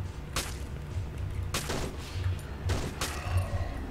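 Gunfire in a video game rings out in several short, sharp bursts spaced about a second apart, fairly quiet overall against a low background hum.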